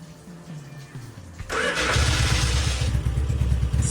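A Yamaha XS 650 cafe racer built by Masaaki Fukayama of Vision Design cranks briefly with the starter, then catches and settles into a loud, close, throbbing idle.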